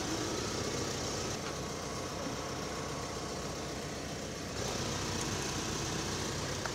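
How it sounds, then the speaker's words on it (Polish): Opel Astra 1.6 CDTI diesel idling with its air conditioning running, parked outside a shop in Croatia, a steady, even rumbling hum heard nearby, with no voices. "ta Astra tu obok stoi pusta, zapalona, klima chodzi, żeby się nie wychłodziła"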